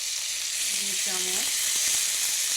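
Ground ginger, garlic, onion, cumin and dried red chili paste hits hot oil for a coconut and taro-leaf curry, a dense, loud hiss of frying that stays steady while a voice speaks briefly.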